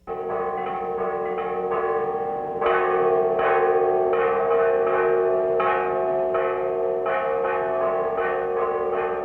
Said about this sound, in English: The noise you hear in the background are bells from the monastery way down there